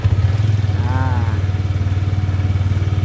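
A Yamaha Lexi scooter engine idles steadily with a fast, even low putter, loud and close, and a brief rising whine near the start.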